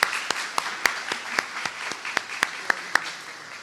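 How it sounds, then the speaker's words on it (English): An audience at an annual meeting awards ceremony applauds award recipients, a dense, steady wash of many hands clapping with a few sharper individual claps standing out near the microphone. "Please join me in another round of applause for our Governance Award recipients."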